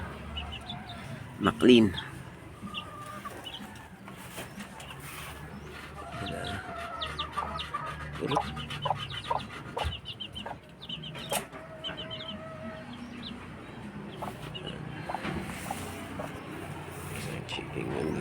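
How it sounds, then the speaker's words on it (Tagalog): Native chickens cluck in a small backyard yard, close by in uneven bursts alongside other bird calls and one loud squawk, while people talk over them. "Ito yung native chicken natin."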